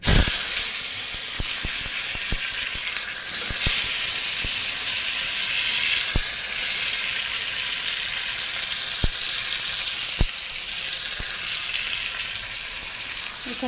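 Chopped tomatoes hit a hot pan with mustard seeds and curry leaves for a chutney, giving a loud, steady sizzle that lasts throughout, broken by scattered sharp pops and spatters and the occasional scrape of stirring.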